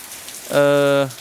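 Rain falls in the late afternoon as a steady, soft hiss throughout, briefly covered near the middle by a short electronic tone.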